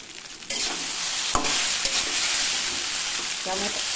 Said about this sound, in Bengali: ভাজা আলুটা দিয়ে দিয়েছি। এবার ভালো করে নাড়াচাড়া করবো